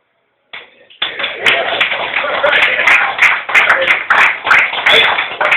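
Scattered applause from an audience at a Worcester Tea Party meeting, starting thin and tentative then swelling into steady, moderately loud clapping with a few sharper claps standing out, heard up close and alone.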